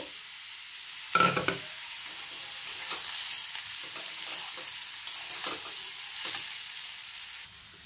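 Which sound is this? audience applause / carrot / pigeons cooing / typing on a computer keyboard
carrot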